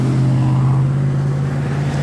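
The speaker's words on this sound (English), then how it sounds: "And wow, look at this traffic." Steady, loud engine drone with a low hum from city street traffic in Phoenix on a cloudy June day, a continuous close roar without pauses.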